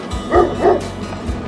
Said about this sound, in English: Big dog. Like a St. Bernard over there.